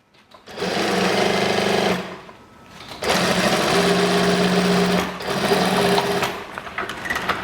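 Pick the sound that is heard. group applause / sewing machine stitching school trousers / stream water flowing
sewing machine stitching school trousers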